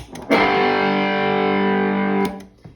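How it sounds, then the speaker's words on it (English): Electric guitar through a JHS Andy Timmons distortion pedal: one loud, sustained distorted chord rings steadily for about two seconds, then cuts off, with no talking. "my main distortion pedal, which is a JHS Andy Timmons"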